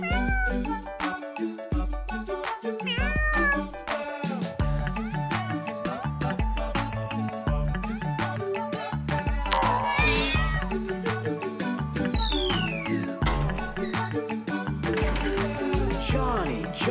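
Stray cats meow repeatedly through a bouncy children's song, the cries rising and sliding over steady music and drums.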